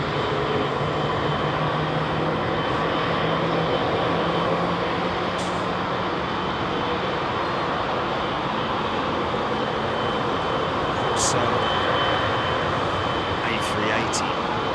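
A Thai Airways jet roars steadily during a close-up takeoff at London Heathrow, a dense, continuous engine rumble with no pauses, heard from nearby.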